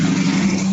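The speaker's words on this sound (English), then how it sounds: "there was a car going by" Car passing nearby outdoors, a short steady engine and tyre rumble with a low droning hum, loud and close, no voices.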